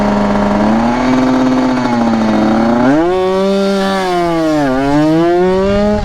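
Motorcycle engine held at high revs with the throttle open, a loud, close buzzing whine that dips, climbs sharply, then wavers up and down as the rpm shifts, heard alone without talk.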